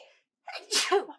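A single sharp human sneeze, close and loud, rising in two quick bursts after a brief quiet gap, with no talk during it.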